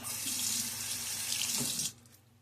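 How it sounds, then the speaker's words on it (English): Water runs steadily from a tap into a sink while shaving lather is being made, a loud continuous splashing rush that stops abruptly near the end. "So I'm going to add more water."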